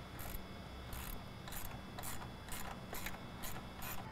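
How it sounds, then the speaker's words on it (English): Ratchet wrench removing the bolt that holds the front of the airbox on a 2013-2018 Dodge Ram 6.7L Cummins truck: eight evenly spaced, crisp clicking pawl strokes, close and moderately loud, with no talk. "Remove this bolt that's securing the front of the airbox to the vehicle."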